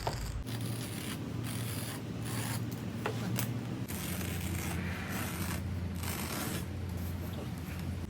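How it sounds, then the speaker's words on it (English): Carpet knife slicing across a full width of carpet for a cat chair build, a close, raspy tearing and ratcheting scrape in repeated strokes with brief pauses, while someone talks over it. "We're using a carpet knife to cut"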